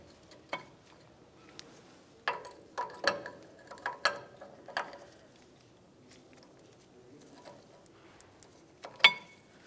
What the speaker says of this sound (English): We'll take each of these and slide them into position in the bracket.